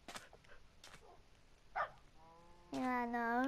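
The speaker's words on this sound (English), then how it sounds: "There's a puppy outside." A puppy outdoors gives a short, high, tonal whine or yip near the end, fairly clear and close, after a few faint scattered sounds.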